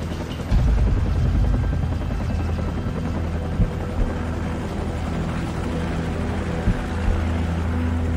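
A helicopter's engine and rotors roar steadily up close in Call of Duty 4: Modern Warfare, a loud continuous drone with a few brief thumps breaking through.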